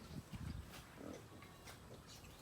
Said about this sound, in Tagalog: Yan po yung mga katamtaman na ang mga biik.